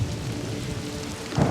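Rain pours steadily from a TV episode of The Walking Dead, a rushing wash of water with a low rumble of thunder swelling near the end, no voices over it.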